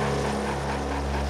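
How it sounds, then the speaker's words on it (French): A rescue helicopter at a winter sports mountain rescue flies overhead, a steady droning rotor and engine hum with low pulsing tones, constant and fairly loud throughout with no talk. "10 minutes plus tard, l'hélicoptère revient avec une équipe médicale."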